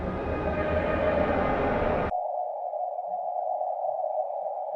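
A distorted synthetic tone runs loud and dense, then abruptly narrows to a thin, steady band-filtered hum once the lowpass and bandpass filters cut in, holding alone to the end.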